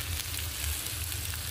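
Onion, green chili, diced potato and pumpkin fry in a pan with a steady, soft sizzle and faint crackle, constant and close, with no talking.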